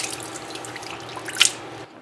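A tap runs with cold water for soap handwashing in a sink, a steady close trickle and splash with a brief louder drip or splash near the end before it cuts off.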